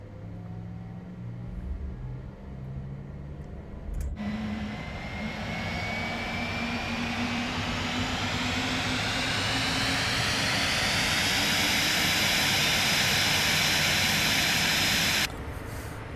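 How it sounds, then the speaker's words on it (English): Embraer Phenom 300E jet engine number two starting up in a flight simulator, a whine that spools up gradually into a steady loud roar over many seconds before cutting back near the end. "so we can start up our engine, starting with engine number 2"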